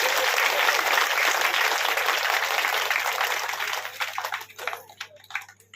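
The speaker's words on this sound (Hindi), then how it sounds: "एक बार अपने गांव के लिए ताली बजा रहे हैं।" Audience at a Hindu religious discourse (katha) in a village applauding, a dense wash of clapping that holds steady and then thins into scattered final claps.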